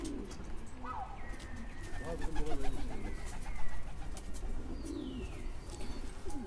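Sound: pigeons released, cooing

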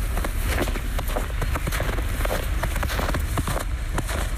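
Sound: footsteps in powder snow

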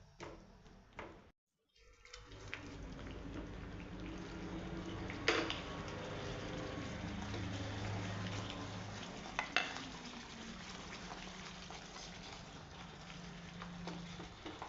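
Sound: paneer pieces added to a pan, sizzling with methi vegetable

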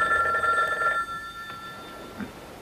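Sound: telephone ringing

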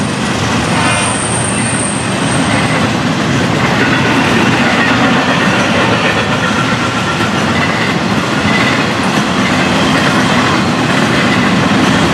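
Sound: FEC freight train with double-stack cars passing

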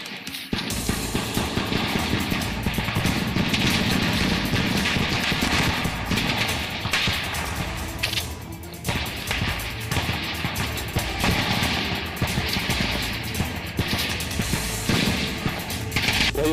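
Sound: gunfire exchange during CRPF operation against Naxalites

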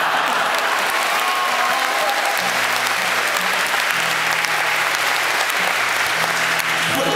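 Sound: concert audience applause

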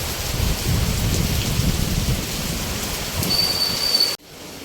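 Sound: heavy rain on metal roof sheets

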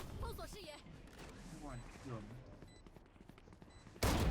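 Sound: gunfire in the video game Valorant Mobile

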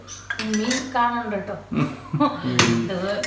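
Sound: glass being taken out, clinking among dishes

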